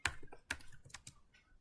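Keys clatter on a computer keyboard as a network configuration command is entered, a quiet, close run of separate taps at an uneven pace with no voices.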